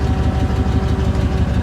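A 1999 GMC tow truck's engine idles with a low, steady rumbling pulse and a faint knocking rhythm, close and continuous, with no talking.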